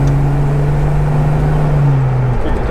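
Nissan GQ Patrol 4x4 engine during a transmission kickdown, a steady, close in-cabin engine drone holding a rising tone that shifts and drops off after about two seconds.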